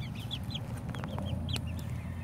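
Four-week-old Ameraucana chickens cluck and peep in short, high chirps, several close calls over a low steady background hum, no talking.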